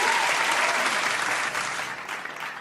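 A round of audience applause rises at the opening of a football match review, a dense wash of clapping that softens slightly toward the end.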